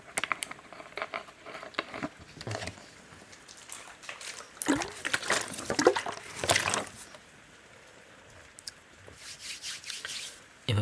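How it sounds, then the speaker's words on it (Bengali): Someone drinks water in a close-miked Bengali ASMR consultation role-play, producing soft sips, trickles and small liquid patters that come and go in irregular clusters. "একটু জল খান।"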